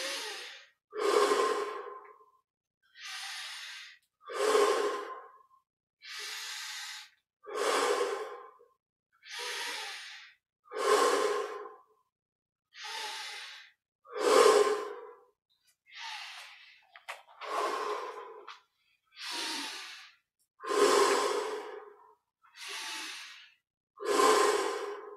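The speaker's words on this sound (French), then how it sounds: "On ouvre la poitrine. 20 respirations profondes." Deep, slow breaths during a guided meditation, each inhale and exhale a distinct airy rush, about a dozen evenly spaced cycles close to the microphone with silence between them and no talking.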